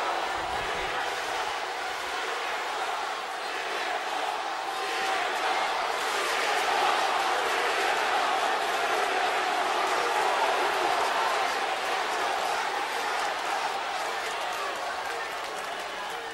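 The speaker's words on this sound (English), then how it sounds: "Some are booing, some are cheering" A packed wrestling arena crowd greets the WWE champion CM Punk with a mixed reaction of booing and cheering, a dense, steady roar of voices that swells slightly in the middle and holds throughout.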